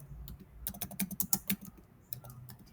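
Quick, irregular keystrokes clatter on a computer keyboard, a soft, close flurry of clicks with a short pause near the end and no talking.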